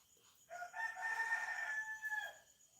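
A rooster crows clearly in a single long, drawn-out call, loud and close, with chickens on the same farm and quiet background before and after.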